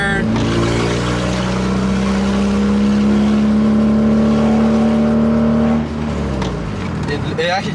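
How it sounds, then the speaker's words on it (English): A Nissan 240 with a rough idle accelerates through second and third gear on a street, its loud engine drone climbing steadily in pitch, then easing off as a gear change drops the tone near the end. "The car drives a lot better."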